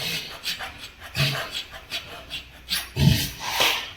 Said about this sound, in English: there's a corner scraped clean with a Linbide blade